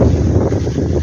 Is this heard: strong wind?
yes